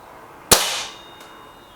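A single sharp crack from an air rifle firing a pellet during a Norma versus Bisley pellet test, loud and close, with a short decaying tail and a faint tick of impact a moment later.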